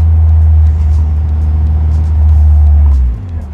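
A Caterham Seven track car drives on a circuit, its engine a loud, steady low drone close by that holds level for about three seconds, then eases off near the end.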